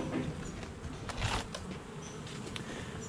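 Honey bees swarm around an open hive during a summer colony inspection, their dense buzzing a steady, close hum that fills the whole stretch without pause.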